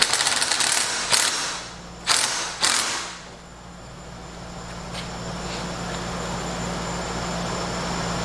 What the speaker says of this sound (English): Grab a socket and just key it in.